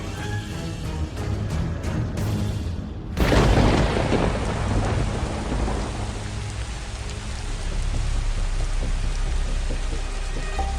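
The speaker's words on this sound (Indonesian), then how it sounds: "Aku tidak pernah lihat hujan lebat begini di Britain" Heavy rain pouring steadily as thunder cracks loudly a few seconds in and rumbles away under the continuous hiss of the downpour.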